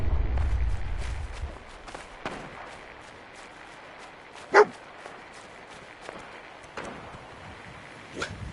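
Dogmeat, the companion dog in Fallout 4, gives a single sharp bark midway through, set against a low game ambience with scattered faint clicks and thumps.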